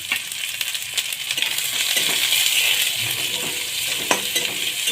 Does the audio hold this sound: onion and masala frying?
yes